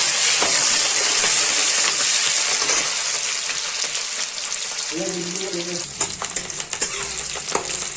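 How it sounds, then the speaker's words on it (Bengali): Chopped onions drop into hot oil for a puri and chola breakfast and fry with a loud, steady sizzle that holds throughout, easing slightly near the end while faint clinks and stirring knocks break through. "আমার তেল গরম হয়ে গেছে, পেঁয়াজ দিয়ে দিচ্ছি"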